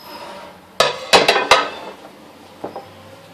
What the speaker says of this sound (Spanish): Y ahora la voy a pasar a una bandeja para poderla cortar mejor.